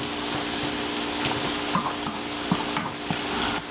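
Potatoes frying in a pan for a frittata: a steady, close sizzle with faint occasional clicks of a utensil, continuous and alone without talk.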